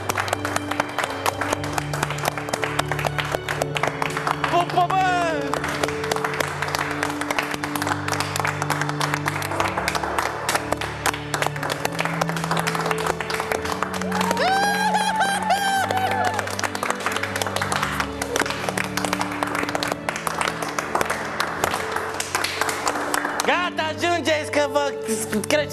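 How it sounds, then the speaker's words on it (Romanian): Wedding guests applauding a newly married couple right after the vows, steady crowd clapping and cheering throughout, heard beneath continuous background music with some voices mixed in. "Aplaudiri! Aplaudiri!"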